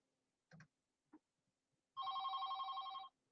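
A telephone rings once with a call coming in to a radio show. The warbling electronic ring is clear and follows a few faint clicks in an otherwise quiet room.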